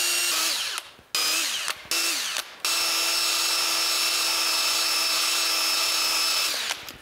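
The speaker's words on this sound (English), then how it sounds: "I'll clean it up as good as I can, just with a wire wheel" Power tool spinning a wire wheel to scrub grime off a tractor scraper blade, a loud steady whine with a few short stops and restarts, then one long continuous run before winding down.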